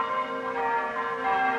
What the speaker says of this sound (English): When you hear the bells, they sound like the girls' voices to me.